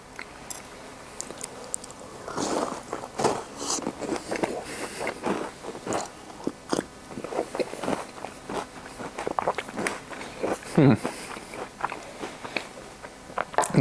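Someone eats a triple chocolate chip cookie dipped in milk, with repeated close, crisp bites and chewing crunches in an irregular rhythm and no talk.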